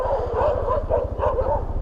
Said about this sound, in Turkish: O yüzden mi havlıyorlar.